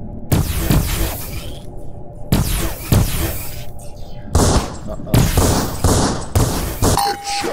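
Gunfire in the first-person shooter Vindicta comes in repeated bursts of sharp, close shots with metallic clanging, separated by short pauses.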